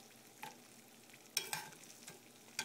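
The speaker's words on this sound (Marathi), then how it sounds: "गिट्सचे जिलेबीचे पॅक्स आणलेत आणि जिलेब्या बनवतोय." Jalebi batter from a Gits jalebi mix frying in hot oil, a faint, quiet sizzle broken by a few sharp stirring and scraping clicks, with no voices.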